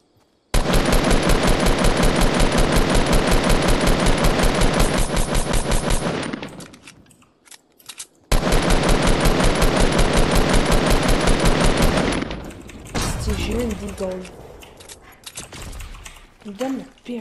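Gunfire in a video game 50 v 50 mode: two long loud bursts of rapid automatic fire with a brief pause between, followed by scattered shots and people talking.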